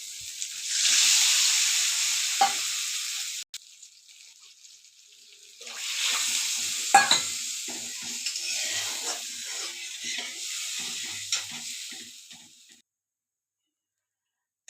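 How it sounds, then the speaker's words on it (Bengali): Water poured into a sizzling mustard fish curry masala with turmeric in a pan, a steady hissing sizzle and splashing close by across two long bursts with small clatters, then fading to quiet near the end. "এবার আমি জল দিয়ে দিচ্ছি।"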